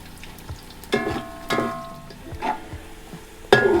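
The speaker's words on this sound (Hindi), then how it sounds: "इसको अच्छी से प्याज के साथ ही फ्राई होने देंगे।" Onions frying in a pot for achari chana pulao give a low sizzle. Several loud spoon scrapes and clanks against the pot come at irregular intervals over it, close up, with no speech.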